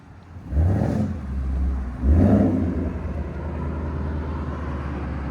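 A car exhaust barks through two quick, loud revs, one after the other, then settles into a steady idle rumble.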